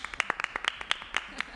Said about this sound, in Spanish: Un aplauso para Nicolás